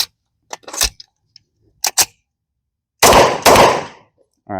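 Metallic clicks and clacks of a bolt-action reload on an HGM724 Echelon chassis rifle, sharp close snaps spaced apart, then two louder, fuller bursts of handling noise near the end.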